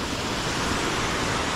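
Rampa waterfall in Andhra Pradesh, water pouring down in a steady, dense rush that fills the whole clip with close, even roar and no voices.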